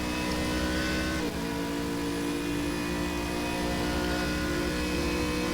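GT3 race cars, including a Lamborghini and an Aston Martin, scream around the Red Bull Ring in Stock Car Extreme, a steady high engine whine with a brief gear-shift dip, close and constant.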